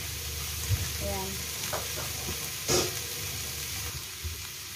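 Cabbage sautéing in a pan gives a steady sizzle and hiss, with a few scrapes and clacks of stirring breaking through near the start and midway.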